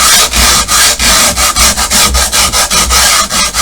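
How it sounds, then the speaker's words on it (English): Leftover grip tape rubbed along the edge of a wooden skateboard deck gives a loud, close, rhythmic rasping, quick back-and-forth strokes repeating steadily with no talk. "You take your grip tape and you like sand the edge."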